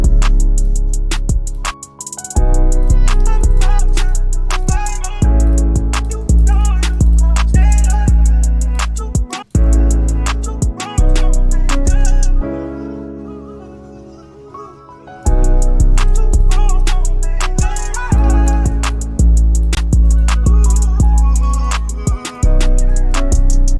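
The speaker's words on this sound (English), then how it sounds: "I'm gonna make another pattern of the chords, but it's just gonna be an octave down." Piano chord pattern played an octave lower, loud repeating chords in a steady rhythm with a short break midway, heard alone without talk.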